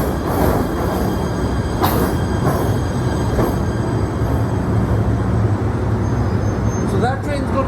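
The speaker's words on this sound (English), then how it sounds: "This may be the first train coming through." A PATH train rolls through a station after a water main break, a steady loud rumble of wheels and cars with brief squeals and screeches near the end, heard up close throughout.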